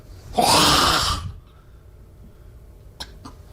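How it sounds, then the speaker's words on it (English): A single harsh, breathy male throat-clearing burst up close, followed by quiet and a couple of faint clicks. "Sounds like he's clearing his throat."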